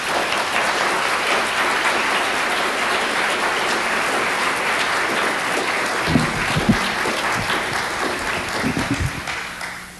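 A lecture audience applauds steadily to welcome Professor Robert Bellah, a dense, even wash of many hands clapping that holds for several seconds before thinning out at the end.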